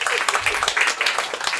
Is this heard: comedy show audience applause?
yes